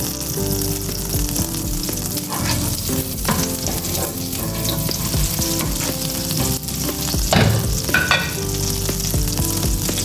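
Shrimp and garlic sautéing in a pan for Filipino bihon, a loud, close, continuous sizzle with occasional stirring and clinks, no voices.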